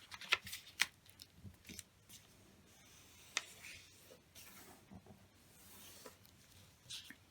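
Soft, close crinkling and creasing of A4 paper being folded into an origami Christmas tree, with scattered sharp crisp snaps and light rustling, fairly quiet throughout.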